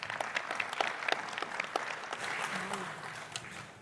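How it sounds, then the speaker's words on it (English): Conference audience applause for speakers and panelists, a moderate patter of individual claps with a few voices murmuring underneath, heard from a distance in a hall. "May I ask all of you to join me in giving our speakers a round of applause"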